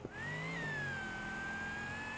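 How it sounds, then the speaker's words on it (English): A supercharged Moonhawk car in the BeamNG Drive racing game revs hard, its loud, steady supercharger whine rising and then holding high over a continuous engine roar, with no talk. "supercharger sound is like crazy on this car."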